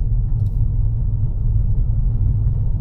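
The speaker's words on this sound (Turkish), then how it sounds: "Şurada Arnavut kaldırımı ve bozuk zeminli bir yola girelim." An Audi A3 35 TFSI rolls over cobblestones and a rough road, heard from inside as a steady low rumble of tyres and suspension with continuous mid-level road noise.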